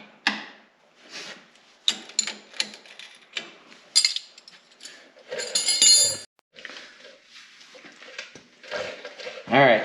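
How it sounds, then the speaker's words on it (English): Two 13 mm wrenches loosening bolts on a Ski-Doo Renegade XRS snowmobile suspension, producing irregular metallic clinks, ratcheting clicks and scrapes in close, uneven bursts, with a person talking intermittently. "Now we'll loosen these up. 2 13 millimeter wrenches."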